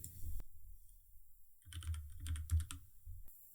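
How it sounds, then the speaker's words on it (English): Keys on a computer keyboard clatter in a quick burst of close, crisp taps, with short pauses between small groups of strokes, in an otherwise quiet room. "I'm going to type in YouTube"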